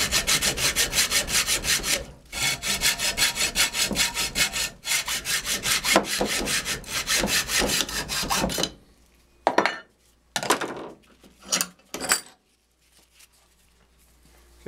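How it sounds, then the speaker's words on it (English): A hacksaw cuts through a metal bracket for a motorcycle camera mount with steady back-and-forth strokes. The strokes run loud and continuous for about nine seconds, then give way to a few short, scattered scrapes. "just hacksawing this off"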